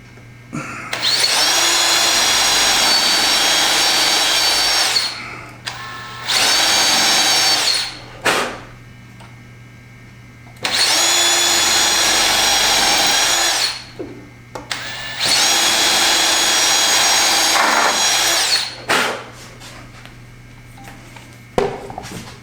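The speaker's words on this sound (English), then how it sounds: "So now I'm just gonna drill those two, put screws in them, just like we just did." A power drill drives screws into a wooden mitre station in four long, loud bursts of high whine, each spinning up and stopping, separated by short quiet pauses.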